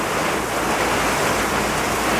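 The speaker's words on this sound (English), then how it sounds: "This is absolutely intense. Hopefully this rain won't last long." Heavy rain pounds steadily on a van on the road in Colorado, a dense, loud, unbroken roar with no voices.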